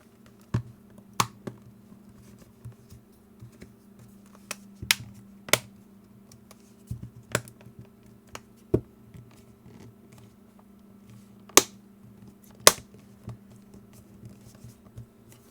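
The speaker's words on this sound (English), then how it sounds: "When you're snapping it back together, it does make noises like you think it's breaking" Sharp plastic clicks and snaps as a Garmin Nuvi 2699LM GPS casing is snapped back together, scattered irregularly over a low steady hum, some louder cracks standing out, with no talking.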